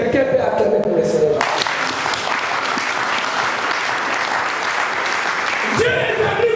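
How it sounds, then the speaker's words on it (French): Loud, sustained applause from a church congregation acclaiming the Lord during a sermon, filling several seconds after a speaking voice, with voices rising over the clapping. "Quelqu'un peut acclamer pour le Seigneur."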